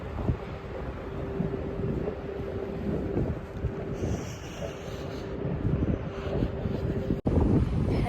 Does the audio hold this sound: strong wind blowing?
yes